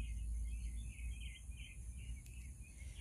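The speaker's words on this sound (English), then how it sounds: "I didn't pay the birds extra to chirp and make all those beautiful sounds" Faint birds chirp in short repeated high calls at a distance from a front porch in Gadsden, South Carolina, over a quiet low background hum.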